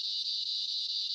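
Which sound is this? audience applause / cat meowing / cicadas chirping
cicadas chirping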